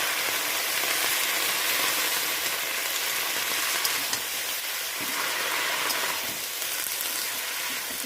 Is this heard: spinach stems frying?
yes